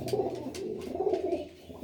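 Purchased pigeons in a Kartarpur loft give low, throaty coos, two rolling phrases close by over a little background noise.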